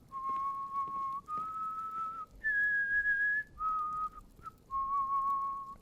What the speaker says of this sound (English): that whistling is a little sadistic